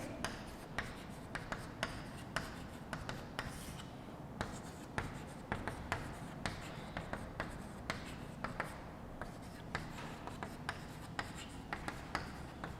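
A pen scratches out a matrix calculation on paper in short, rhythmic strokes and taps, close and fairly quiet, with light rustling between marks.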